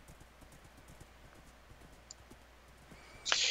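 Horse hooves clip-clopping in a steady quiet rhythm in a multiplayer video game, ending in a loud, bright neigh during the last quarter second.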